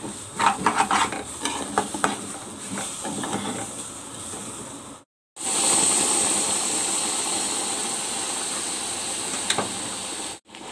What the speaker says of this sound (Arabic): زي ما انتوا شايفين كده انا بقعد بقلب فيه مثلا 5 دقايق